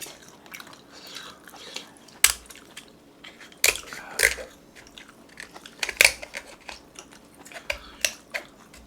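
King crab being eaten, with close crunching bites and sharp cracks of shell coming at irregular intervals, some loud and some faint, with no talking.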